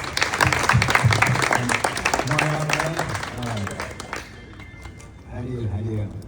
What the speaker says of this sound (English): let's give Larry Woods a round of applause